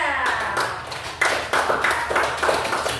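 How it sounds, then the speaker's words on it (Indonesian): A short burst of hand clapping from a small group, brisk and uneven, lasting a few seconds with no talking over it. "tepuk tangan untuk kelompok 3"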